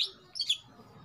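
A green leafbird (cucak ijo) gives a few quick, high chirps close by in a quiet room, followed by faint background noise.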